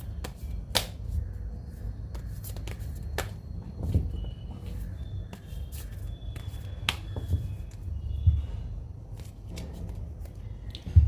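A deck of oracle cards is shuffled close by, giving soft, irregular riffling and sharp snapping flicks over a low background murmur, without speech.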